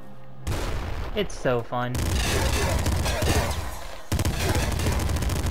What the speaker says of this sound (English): I love double assault rifles so much